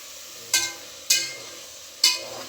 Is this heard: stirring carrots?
yes